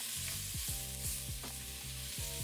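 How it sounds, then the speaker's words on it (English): Garlic and onions sautéing in a pot for a slow cooker pot roast, a steady sizzle and crackle with repeated scraping stirs in a regular rhythm, close and alone. "Add them to the pot with the onions and saute them for another minute or 2."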